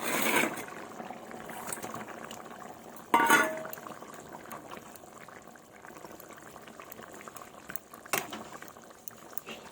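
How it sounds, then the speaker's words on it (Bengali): Fish curry gravy with cauliflower boils in a pan, giving a steady, soft bubbling and simmering sound throughout. A few louder clatters break in near the start and middle, and no one speaks. "তো ঝোলটা আমার ফুটে গেছে"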